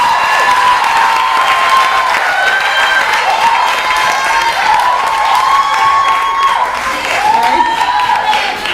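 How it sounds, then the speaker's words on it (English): An audience at a poetry recital competition applauds after the performers finish, with continuous loud clapping mixed with cheering and high voices calling out throughout. "if you could just give them a resounding applause, ladies and gentlemen"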